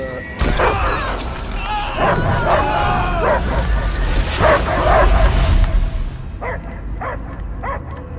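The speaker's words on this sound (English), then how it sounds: "I hear only barking." Dog barking in the Guardians of the Galaxy video game, a run of yelps and barks mixed with game voices and a steady background score, ending in a few short, separate barks.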